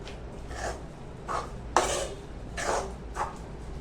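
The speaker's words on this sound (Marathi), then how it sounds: "ही जी मेथी आहे ही छान मस्तपैकी घोटून घ्यायची घोटून म्हणजे छान अशी हलवायची चमच्याने अशा पद्धतीने" A spoon stirs fenugreek greens mixed with gram flour in a pot, giving soft scraping, rubbing strokes in about five separate bursts, close and fairly quiet against a low background hum.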